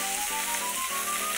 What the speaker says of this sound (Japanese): お肉ね、こんな感じでしっかりと炒めましたら